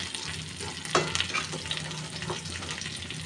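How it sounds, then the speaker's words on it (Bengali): Spice paste for a rohu fish kalia curry being stir-fried in a pan, with steady close sizzling and a few brief scraping stirs, no talking. "আমি একবার কষিয়েছি, এখন আরেকবার কষাচ্ছি।"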